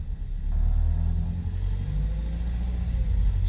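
A warmed-up Lancia Fulvia engine idles close by, a steady deep rumble with a brief dip partway through, with no talking.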